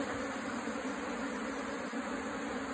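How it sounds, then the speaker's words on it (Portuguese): Dense, steady buzzing of many honey bees at an opened hive box with honey supers, heard close up and continuous, with no voices. "Bastante abelha, velho."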